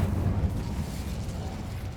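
An Incendio fire spell cast in Hogwarts Legacy, a dense low whooshing roar of flame that fills the moment steadily and loudly, rumbling with a slight crackle.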